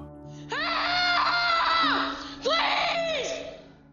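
A boy lets out two long, loud, desperate screams, each rising and then trailing off, with a short pause between them.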